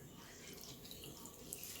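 Water runs steadily from a sink tap while rice is strained, a soft continuous splashing close by with no talk.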